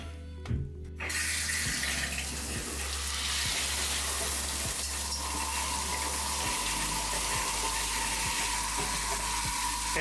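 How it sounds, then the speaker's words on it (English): A shower runs steadily with warm water while a cloth mousepad is about to be pre-soaked, a continuous close hiss of spray with a low rumble beneath it, alone with no talk. "we're going to go ahead and turn the shower on"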